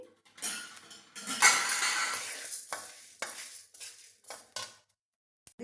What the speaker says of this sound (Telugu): వీటిని వేయించుకొని పూలు వచ్చేంత వరకు వేయించాలి ఇలా చిట్పట్లాడుతూ పూలు వస్తాయి